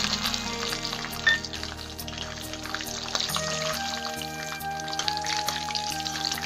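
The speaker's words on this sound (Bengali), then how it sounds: "বাদাম কটা ভালো করে লাল লাল করে ভেজে নেবো।" Peanuts frying in hot oil in a wok, a soft continuous sizzle with scattered pops and crackles beneath a background hum and faint tonal music.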